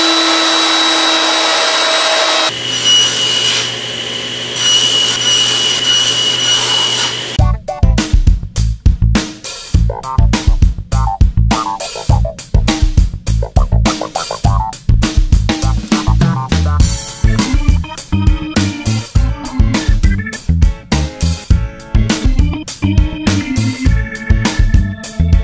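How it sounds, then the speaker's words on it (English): Router table rounding over the corners of wood tenon stock, starting with a steady motor whine that runs briefly alone before a dense series of repeated cutting passes, loud and close throughout. "Now I just need to round over all the corners at the router table."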